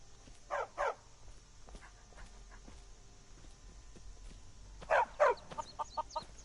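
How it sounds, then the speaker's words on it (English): Dog barking in the fantasy video game Skyrim: two short paired barks near the start, then another double bark followed by a run of smaller yaps, set against quiet ambient game sound with no talking. "Oh, it's the dog."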